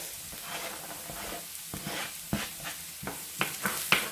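Garlic hits hot oil in a pan and sizzles softly, with a string of sharp scraping stirs and taps that grow more frequent toward the end, heard close with no speech.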